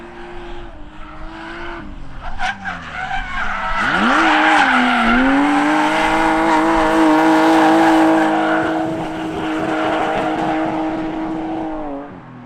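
An M3-engined BMW E30 race car driven hard on a track, its engine roaring steadily near and loud while the tires squeal and skid through the corners.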